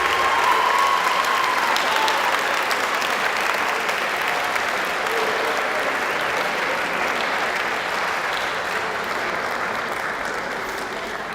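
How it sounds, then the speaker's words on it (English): An audience at a student awards event applauds a group of student athletes. The clapping is dense and sustained, opens loud and tapers slightly as it goes on, with faint cheering mixed in. "Let's please give them a big round of applause."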